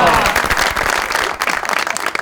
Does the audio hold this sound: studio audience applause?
yes